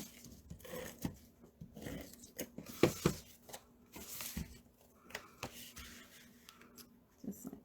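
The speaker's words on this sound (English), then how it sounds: "Just go ahead and use your scissors and trim it right off." Scissors trim paper during a stamped greeting-card craft project, a few quiet, close snips clustered together amid light handling rustles.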